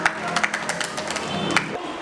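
Students in a high school assembly hall clap as a group. The applause is a short, dense patter of claps with crowd murmur underneath, and it runs steadily for about two seconds.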